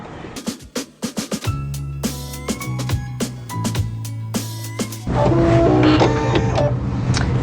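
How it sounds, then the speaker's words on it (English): An embroidery machine satin-stitches around zigzag outlines on a children's face mask design, giving a steady loud mechanical whirring with rapid needle clatter and tonal motor hum that shifts pitch partway through, with no voices. "This next step is the satin stitching around the zigzags."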